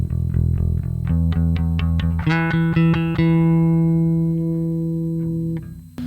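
A Fender Japan MB-5 five-string bass with its tone control wide open plays a quick run of plucked notes, then a chord that rings out bright and sustained before being muted, heard alone and up close.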